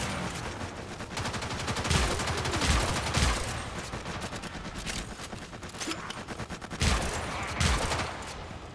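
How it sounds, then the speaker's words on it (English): Warframe gunfire: a steady stream of sharp, close shots crackles throughout, with heavier paired blasts punching through at intervals over a busy combat backdrop. "I keep shooting double shots"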